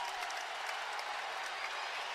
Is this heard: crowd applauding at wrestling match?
yes